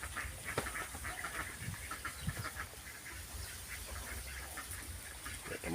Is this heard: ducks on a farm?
yes